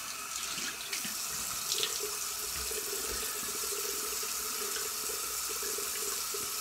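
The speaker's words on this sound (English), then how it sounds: "Let me rinse off." Running tap water flows steadily into a sink as someone rinses off after a shave, a constant close splashing hiss with no talking.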